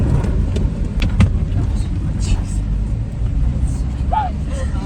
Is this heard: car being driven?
yes